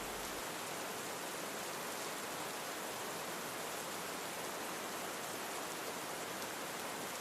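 Steady rain falls outside a cabin, a dense, even hiss with no distinct drops, constant and moderately faint throughout with no voices.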